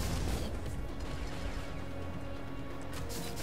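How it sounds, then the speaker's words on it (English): Explosions and combat in the video game Alienation, a dense, loud stretch of crashing bursts and booms over continuous noisy game action, with no speech. "And there's explosions."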